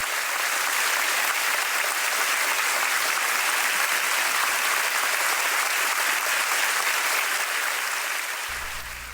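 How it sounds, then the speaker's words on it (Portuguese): A church congregation breaks into loud, sustained applause, dense clapping from many hands filling the room evenly for about nine seconds before tapering. "Por isso vamos dar um forte aplauso à nossa irmã Maria Luísa com todo o nosso carinho."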